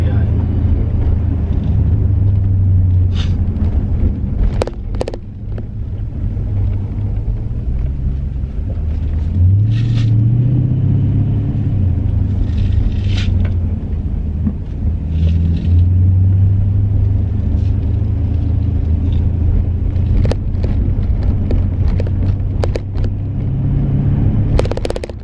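A Dodge Challenger or Charger driving on a road, its engine giving a deep, steady rumble that rises and falls with acceleration as someone talks over it.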